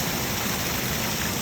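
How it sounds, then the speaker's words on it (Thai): A waterfall near a home at Kaeng Tao Ngoi in Thailand pours as a loud, steady rushing hiss of falling water, close by and constant, with no one speaking. "นี่คือน้ำตกน้ำตกบริเวณบ้านของเรา"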